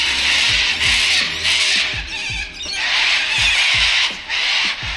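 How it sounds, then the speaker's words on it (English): A flock of birds squawks and screeches loudly outdoors beside a high-density housing estate in Sydney, with repeated harsh, shrill bursts close by and no talking. "Those birds are loud as,"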